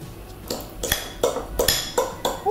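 A spoon clinks against a dish while carrots and mayonnaise are layered onto a cod liver salad, giving a string of sharp, close scraping taps roughly every half second with no talking.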